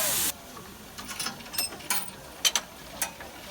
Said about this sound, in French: On fait quand même vivre une ancienne locomotive à vapeur comme celle-ci